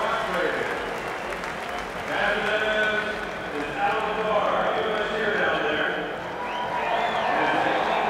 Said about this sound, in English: Listen to the roar of the crowd for the Spider-Man.